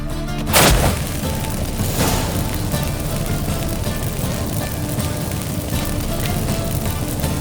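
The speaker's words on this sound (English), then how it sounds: "Get ready for some magic fireworks" A burst of magic fireworks goes off after incense is lit in The Witcher 3, a loud boom near the start followed by a steady, dense crackling and rumbling wash of game sound that carries on throughout.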